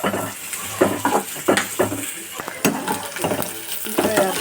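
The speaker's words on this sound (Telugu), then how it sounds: "ఒక 2 ఆనియన్స్ కట్ చేసుకొని ఇలాగ కొంచెం నూనె పోసుకొని వేయించుకోవాలండి" Onions frying in oil in a pan, with a steady sizzle broken by repeated scraping and clinking stirring strokes, close and fairly loud.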